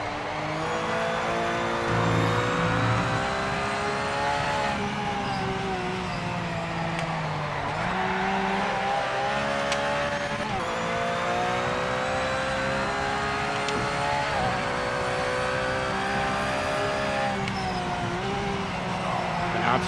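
A Porsche race car drives in the PMR racing video game, its engine droning steadily and loudly close up throughout, with pitch rising and dipping through gear changes and throttle shifts.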